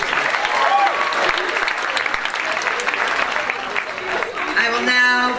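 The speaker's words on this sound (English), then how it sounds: "applause for all of our inductees" A room full of people at an induction ceremony claps steadily and loudly for inductees for several seconds before the applause fades and a voice begins to speak.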